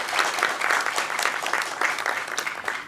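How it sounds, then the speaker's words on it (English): Audience applause at a national high school and college debate final, steady dense clapping spread across a hall, fairly loud and sustained throughout with no talk over it. "Let's have a round of applause."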